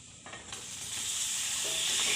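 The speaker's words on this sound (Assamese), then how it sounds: "মছলাখিনি দি অলপ লৰাই দিলোঁ। ভালকৈ লৰাই ভাজি ল'লোঁ। তাৰপিছত এয়া মাংস দি দিছোঁ।" Broiler chicken meat drops into frying spices in a pan, the sizzle rising and intensifying into a steady loud hiss with faint stirring.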